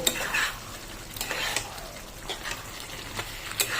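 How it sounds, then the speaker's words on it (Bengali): A spoon stirs and mixes jackfruit and prawn curry in a pan, with fresh coriander leaves and a pinch of garam masala just added. The scrapes and clinks come in an irregular rhythm, close up and fairly quiet, with no talking. "ভালো করে একবার মেখে নেব।"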